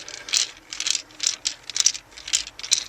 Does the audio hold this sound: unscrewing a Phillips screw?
yes